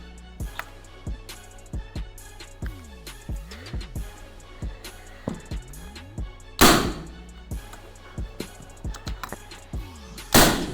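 A Predator Big Game AFC Bandit air rifle is fired repeatedly, giving short sharp thunks at an irregular pace, with two louder, brighter cracks standing out among them.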